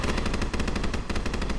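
Loud, sustained automatic gunfire in the Minecraft video game during a blood rain event, a rapid unbroken rattle of shots filling the whole moment.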